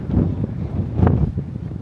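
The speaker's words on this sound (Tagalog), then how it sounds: "Mahangin-hangin nga lang siya." Coastal wind buffets the microphone at Yehliu Geopark in Taiwan, a low gusty rumble that rises and falls throughout, loud and close with no clear voices.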